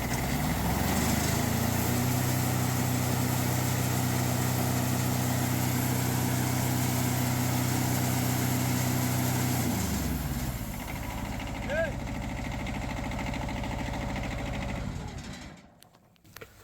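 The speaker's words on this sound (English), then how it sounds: "We're going to start it up, see if we can get the blade to track, shut it off, get a log up there." A new Wood-Mizer sawmill's engine runs with a loud, steady droning hum for about ten seconds, then shuts off and winds down. Fainter mechanical noise continues before fading out.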